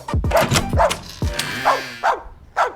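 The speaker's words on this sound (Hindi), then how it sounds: "तुझे मैं भौंकने को मना कर रहा हूं और तू भौंके जा रहा है" A dog barks repeatedly at close range, several sharp loud barks in an uneven series with brief pauses between them.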